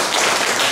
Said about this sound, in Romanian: Haideți să o aplaudăm pe Lorena.